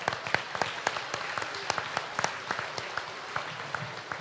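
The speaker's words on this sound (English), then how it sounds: "Let's give him a round of applause up there." A live audience at the Northern Wisconsin State Fair livestock auction applauds, a fairly faint, loose patter of individual claps spread evenly through the moment, with no voices over it.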